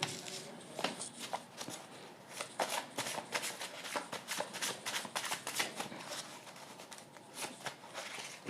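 Handwritten reading cards being shuffled: a steady, continuous riffling and flicking of paper cards, close and moderately quiet, running throughout with no speech.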